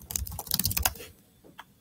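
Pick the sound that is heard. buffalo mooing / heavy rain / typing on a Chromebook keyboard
typing on a Chromebook keyboard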